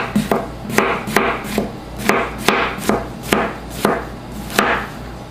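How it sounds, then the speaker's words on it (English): A knife chops zucchini on a cutting board in about a dozen crisp, fairly regular strikes, each a sharp close knock with a short scrape between, and no talking. "slice up your sun-dried tomatoes, you get your zucchini any way you want to do them"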